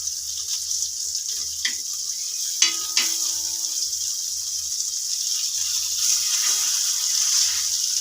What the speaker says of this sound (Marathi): तर हे आपले चिकनचे पीस भाजून झालेले आहेत